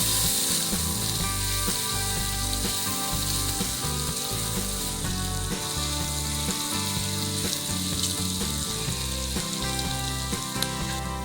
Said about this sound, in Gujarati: નેક્સ્ટ સ્ટેપમાં આદુ લસણની પેસ્ટ નાખી એને સાતળવા દેશું.